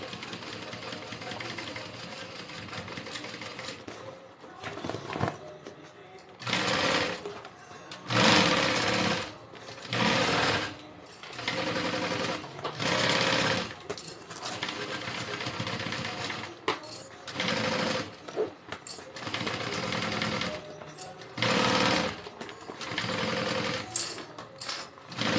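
Sewing machine stitching a Denver backpack, running in repeated loud bursts of rapid stitching separated by short pauses, with no voices.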